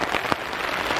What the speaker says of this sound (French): C'est vrai qu'il pleuve fort